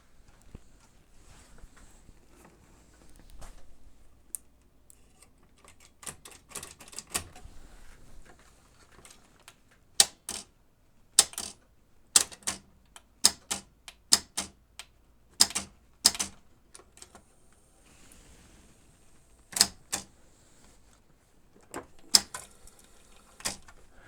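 A Pioneer CT-F900 cassette deck with a stuck mechanism: scattered sharp clicks and clunks from pressed buttons and moving parts, sparse at first and then clustering into irregular bursts over a faint motor hum.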